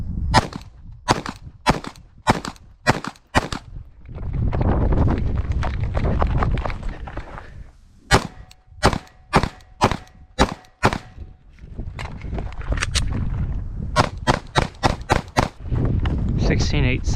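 Glock 19 pistol fitted with a compensator, fired in fast strings of sharp, loud cracks, about six shots, a pause, then five or six more in two bursts, with stretches of talking and movement between the strings.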